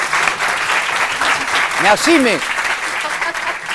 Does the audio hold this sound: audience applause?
yes